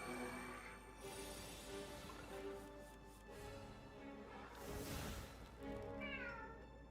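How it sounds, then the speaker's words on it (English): A pet cat meows loudly in a quiet room during an Overwatch gaming session, giving a couple of drawn-out cries near the microphone over faint background hum. "It's a loud meow today, huh?"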